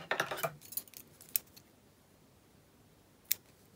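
Small scissors snip thread ends after sewing shirring elastic into fabric, a quick cluster of close metallic clicks, then two isolated sharp snips separated by quiet.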